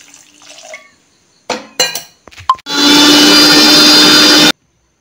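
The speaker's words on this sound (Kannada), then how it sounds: "ಸ್ವಲ್ಪ ಒಂದು 1/2 ಗ್ಲಾಸ್ ಆಗುವಷ್ಟು ನೀರು ಹಾಕ್ತಾ ಇದ್ದೇನೆ" Water pours steadily into a mixer grinder jar holding chopped gooseberries for gooseberry pulinji, a dense continuous splash of about two seconds following a few brief glass clinks and knocks.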